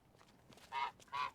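A goose in The Unfinished Swan video game gives two short, nasal honks in close succession, moderately clear over a quiet background.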